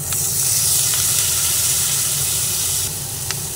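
Capsicum fries with browned onions in a hot pan, giving a loud, dense, continuous sizzle and hiss close up, with a couple of faint stirring taps and no talking.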